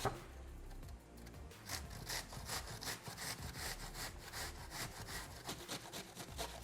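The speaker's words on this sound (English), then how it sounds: "we use a cheese grater and just go through and grate this red onion" Red onion grated on a handheld cheese grater: continuous rhythmic rasping strokes, close and fairly quiet, with a steady back-and-forth scraping pulse and no talking.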